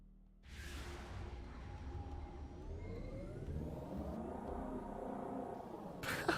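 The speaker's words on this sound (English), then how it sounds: "It sounds like a power scooter." A modded vehicle engine in Halo 3 kicks in after a brief pause and holds a steady, buzzy whirring drone like a power scooter, its pitch sweeping upward as it accelerates, with no talking.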